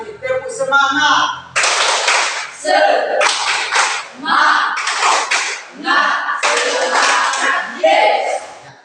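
Standing in class, students repeat a patterned spirit clap, with sharp collective hand claps in rhythmic groups alongside loud group chanting, close and energetic.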